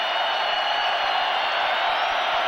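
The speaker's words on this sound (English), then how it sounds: "Gant, he wants more crowd noise." Steady roar of a football stadium crowd during a 1992 NFL game between Dallas and Philadelphia, a dense continuous wash of cheering and noise that holds at a loud, even level throughout.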